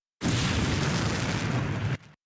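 An artillery shell hits and explodes during wartime shelling, a single loud, broad roaring blast that holds steadily for nearly two seconds before cutting off sharply, with no voices.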